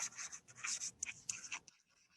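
Marker writing on a board while working a completing-the-square math problem, faint close squeaky strokes in short bursts that stop near the end.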